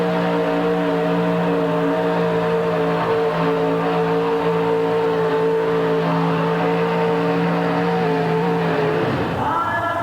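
A pulling truck at a 1989 USHRA truck pull event in Hartford roars at sustained high revs, a loud steady engine drone with strong harmonics, then the pitch shifts and drops near the end as the run stops.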